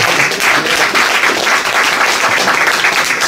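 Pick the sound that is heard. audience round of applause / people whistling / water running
audience round of applause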